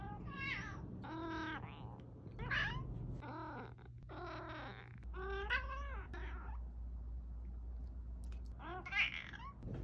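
A black cat meows and caterwauls repeatedly in drawn-out, wavering cries, loud and close, with a steady low hum running underneath.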